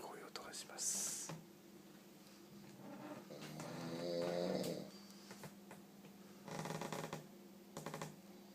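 A person snores in the early morning, drawn-out rasping breaths rising and falling at low level, one longer swelling snore in the middle, with faint rustling and short noisy bursts around it.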